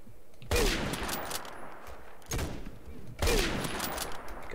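Rapid gunfire bursts from the Roblox-style shooter Phantom Forces, loud dense volleys starting abruptly, pausing briefly, then resuming twice over a few seconds, with no talking.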